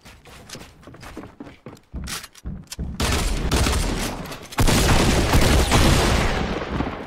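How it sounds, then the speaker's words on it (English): Rapid booming shots in Fortnite: Battle Royale, heard first as scattered sharp bangs and then as dense, loud, continuous gunfire close by, with no talking. "he must have been using a new double barrel"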